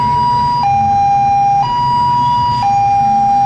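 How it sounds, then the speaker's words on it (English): Siren on a vehicle in a Christmas parade, set to sound like a British ambulance: a loud, close two-tone siren alternating between high and low pitches about once a second. "That's his impression of a British ambulance."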